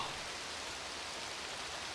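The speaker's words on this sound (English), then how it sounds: "It's been decades since it rained like this in the desert city of Mozambique." Steady rain falling across the desert city of Mozambique in the video game Azure Dreams, an even, continuous hiss with no breaks, moderately loud and heard alone without voices.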